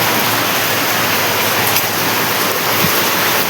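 Storm water pours down hard at night during a thunderstorm, a loud, continuous rushing wash of water that fills the whole stretch without pause.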